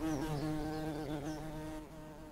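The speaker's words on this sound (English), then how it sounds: "This is a female red mason bee" A female red mason bee buzzes steadily and close with a sustained low drone, holding level for a couple of seconds before easing slightly.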